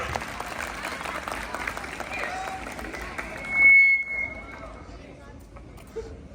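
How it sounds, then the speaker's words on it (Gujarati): A room full of people at a high school awareness skit claps for a few seconds, dense applause that fades into quieter murmuring. "તાળી મારજો હોય"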